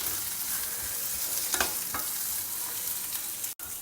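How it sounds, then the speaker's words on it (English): Chopped onion, garlic, ginger and chillies fry and get stirred in a pan, a steady close sizzle with a few scraping stir accents, no voices. "Fry everything till the onions change color, they get a golden brown color"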